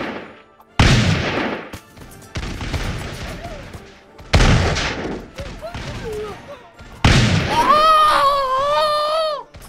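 Gunfire rings out in Totally Accurate Battle Simulator, sharp loud bursts of shots arriving in separate volleys with gaps between, mixed with unit yells and cries from the battle.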